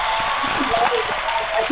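Studio applause sound effect dropped into a music-industry interview show, a steady hiss of many hands clapping at even loudness throughout, with no voices over it.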